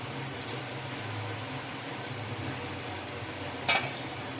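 Curry leaves fry in hot oil over a medium flame for an egg fry, giving a steady, fairly quiet sizzle with one brief crackling pop near the end and no talking.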